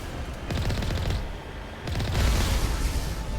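Rapid bursts of gunfire from the video game Mass Effect rattle loud and close in two dense volleys separated by a short lull, with booming low thuds under the shots.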